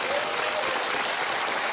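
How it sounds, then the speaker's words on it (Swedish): Studio audience applause on a Swedish television show, a brief burst of dense, even clapping at moderate loudness with no one speaking over it. "tycker jag du ska få en applåd"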